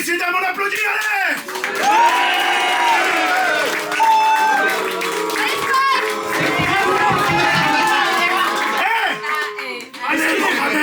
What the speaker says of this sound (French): Allez messieurs dames, on applaudit, allez.